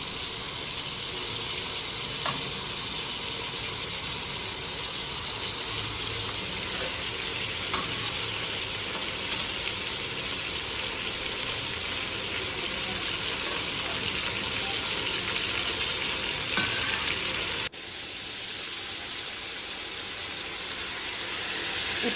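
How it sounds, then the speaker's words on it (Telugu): Pressure-cooked mutton pieces fry in a pan for Tirupati-style mutton pulao, giving a steady close sizzle with occasional stirring scrapes. The sound softens abruptly near the end, and no one speaks over it. "ఇప్పుడు ఈ మటన్ని వేగనివ్వాలి"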